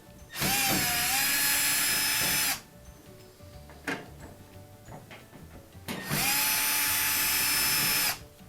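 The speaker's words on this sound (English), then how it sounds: "Pull these two screws." Cordless power drill backing Phillips screws out of a Whirlpool dryer cabinet, two loud close whirring bursts of about two seconds each separated by quiet handling clicks.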